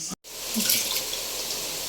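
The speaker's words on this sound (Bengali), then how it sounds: "এই যে পোলাওয়ের চাল ধুইতেছি" Polao rice being washed under a running tap, a continuous splashing water stream close by after a brief silent gap at the start, no talking.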